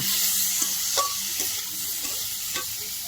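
Small fish being stir-fried in a pan, a steady close sizzle broken by several soft scraping stirs of a spatula, with no talking.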